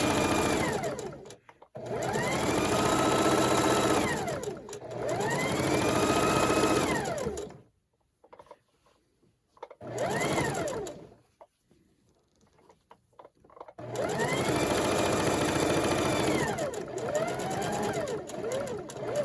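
A sewing machine stitches a Christmas table runner in several loud, close whirring runs, each lasting a few seconds, separated by short pauses and one longer quiet gap.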